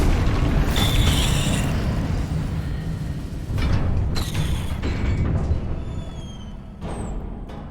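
Confringo fire spell blasts in Hogwarts Legacy, heard as booming explosive bursts over a dense, continuous rumble of game combat, with several sharp crackling hits spread across the stretch and no voice.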